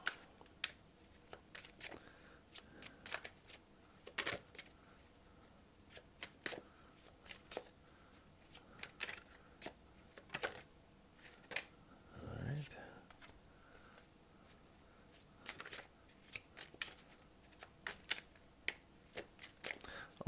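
Tarot cards shuffled and drawn from a deck, soft close riffles and sharp flicks and snaps at irregular intervals, quiet, with occasional low speech.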